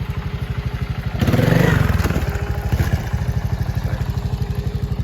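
Montesa 260 Cota trials motorcycle thumping at a slow, even, close idle, swelling briefly into a louder rev with some clatter before settling back to the steady low pulse.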